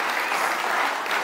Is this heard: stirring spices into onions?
no